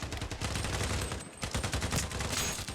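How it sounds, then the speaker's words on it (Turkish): Rapid automatic M4A1 rifle fire in the video game Sabotaj, dense bursts of loud close shots crackling nearly continuously with one brief pause midway. "Bu tek M4A1 şimdi bunu patlatalım"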